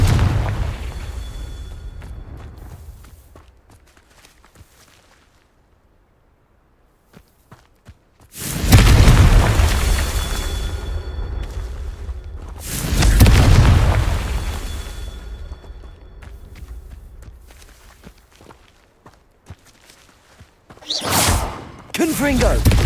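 Confringo blasting spells go off in Hogwarts Legacy: after a quiet stretch, two heavy booming blasts land a few seconds apart with rolling low rumble, followed by a sharper burst near the end.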